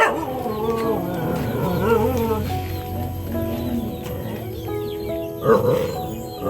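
A dog howls and barks in wavering, drawn-out cries at a moderate distance, with people talking over it and birds faintly audible.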